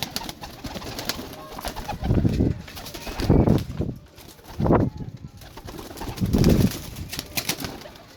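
Pigeons for sale coo in several low, throaty bursts spaced a second or two apart, close by over a steady background hum, without talking.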